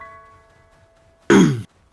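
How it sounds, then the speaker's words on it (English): A single short, gruff throat clearing lasting about a third of a second, close and fairly loud, breaking an otherwise quiet stretch with faint background tones. "keep having to clear my throat"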